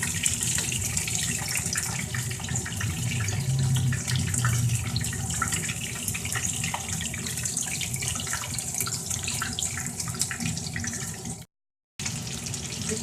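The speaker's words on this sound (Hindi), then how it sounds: "और इसे हम शैलो फ्राई कराते हैं।" Potato keema kebabs shallow frying in oil over low to medium heat, giving a dense, steady sizzle and crackle that runs throughout with one brief gap.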